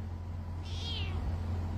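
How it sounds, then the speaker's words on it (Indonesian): A single cat meows once, a short rising-and-falling call of moderate loudness, over a steady low hum in an outdoor chicken-keeping setting with no talking. "Puyeng juga nih ngadapin kucing nih"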